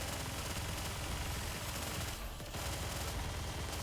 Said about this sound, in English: Oh, look at the machine gun snipe the snipers.